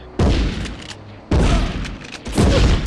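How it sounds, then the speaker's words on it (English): Gunfire from the Medal of Honor Underground video game: three loud, booming shots spaced about a second apart, each with a short reverberant tail, no talking over them. "Somehow that guy didn't hear the gunshot straight towards him"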